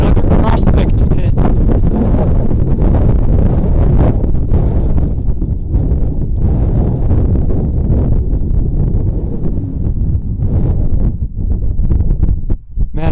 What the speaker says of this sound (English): Man, this wind is terrible